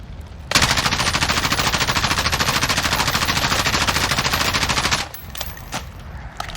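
M4 assault rifle in the video game Modern Warfare fired in one long continuous automatic burst, loud, rapid and evenly spaced, then stopping abruptly and leaving a few faint clicks and rattles.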